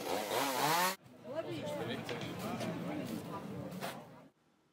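A chainsaw roars loudly for a moment while carving wood at a timber sports event, cuts out, then a crowd's chatter and commotion continue with a buzzing motor in the background.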